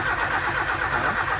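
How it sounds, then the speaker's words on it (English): A Nissan 240SX engine cranks and turns over with a rapid, pulsing churn, loud and close, without catching into a steady idle. "Let's start this baby up."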